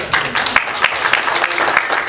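An audience claps to vote for a preferred option in a show of hands, with a few sharp individual claps standing out over a brief, moderately loud patter of applause.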